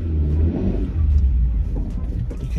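Vauxhall Insignia car with a clunking fault, heard from inside as a heavy low engine rumble with dull knocking thuds beneath it, loud and close.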